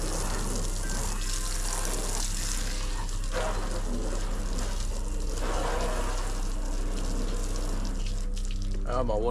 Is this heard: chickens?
no